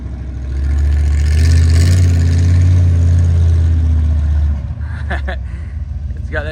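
Mega truck fitted with a junkyard big block Chevy engine, heard driving with a loud, steady deep engine drone for several seconds before it drops off into rougher, lower running.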